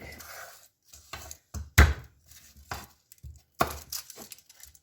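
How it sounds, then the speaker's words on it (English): Garlic gets crushed while pork is prepared, heard as a series of irregular close knocks and thuds, one much louder press in the middle, separated by short quiet gaps. "crush the garlic"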